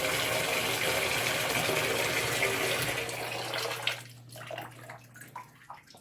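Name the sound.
filling a container with water to submerge yarn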